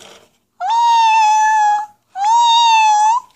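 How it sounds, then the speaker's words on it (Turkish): A cat meows twice in long, loud, drawn-out calls with a short pause between them, close to the listener, with no talking over it. "Miyavlıyor bize."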